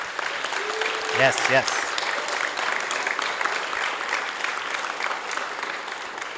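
An audience at an evening book launch event claps in a steady wash of applause, moderately loud and sustained, with a brief spoken interjection early on.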